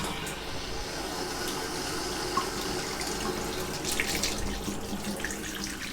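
Tap water pouring steadily through a flexi hose in hot and cold pipework, a continuous close splashing rush that holds an even level throughout.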